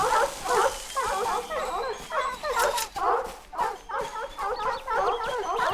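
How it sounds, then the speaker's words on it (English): Dog sounds from the Kingdoms of Amalur: Re-Reckoning video game, a rapid, continuous run of barks, yips and whimpers in rhythmic bursts, loud and close, with no talk. "now we've got non-stop sound effects from dogs that are already dead."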